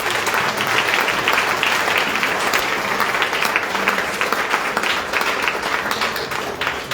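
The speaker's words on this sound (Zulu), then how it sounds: "Ngicela sibashayele ihlombe." A church congregation at an ordination service breaks into sustained applause, dense and steady clapping from many hands filling the room throughout without pause.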